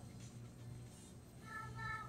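A pet cat meows softly at home, a faint, drawn-out call rising near the end over quiet room noise, with no one talking.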